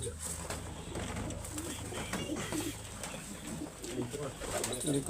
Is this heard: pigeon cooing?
yes